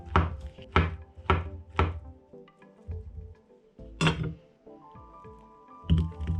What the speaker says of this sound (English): So let's slice up these bananas, add some yogurt and get blending.